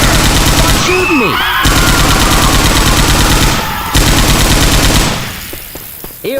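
Rapid automatic gunfire in the video game Left 4 Dead 2 rattles loudly and almost continuously, breaking off briefly twice before fading, with a player's voice shouting over it.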